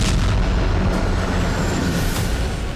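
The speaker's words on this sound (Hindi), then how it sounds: "पीओके में आतंकी ठिकानों पर आर्टिलरी गन यानी तोप से गोले दागे गए" Artillery guns fire shells at terrorist positions in PoK, a dense, heavy rumble of booms rolling continuously and loudly, with sharper blasts standing out near the start and middle.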